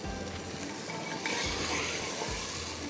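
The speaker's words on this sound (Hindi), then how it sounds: "बस अब इसको करना है अच्छी तरह से भुनाई, इसी से करती हूँ।" Mixed saag greens with spices being stir-fried in a pot, with a steady dense sizzle throughout and rhythmic scraping strokes of a spoon stirring every second or so, close and moderately loud.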